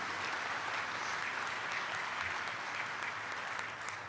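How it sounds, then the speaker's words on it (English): A seated crowd at a sheriff's office volunteer awards ceremony applauds in an even, continuous patter of clapping, fairly quiet and distant. "Give a round of applause for you guys."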